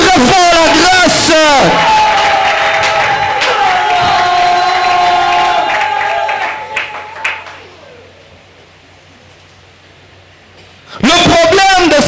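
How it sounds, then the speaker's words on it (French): A church congregation at a Sunday service cheers and shouts loudly together in a swelling crowd roar mixed with voices, then fades to near silence before a loud burst returns at the end. "Acclame très fort la grâce"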